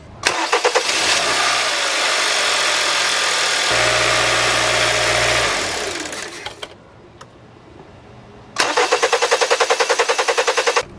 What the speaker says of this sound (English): Now we're going to go ahead and start the car.